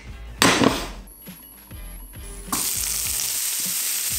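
Rice frying in a pan with garlic, onion, chili and red pepper, a loud burst of sizzling and stirring clatter early on, then a steady, close hiss of frying with soft scraping taps continuing to the end.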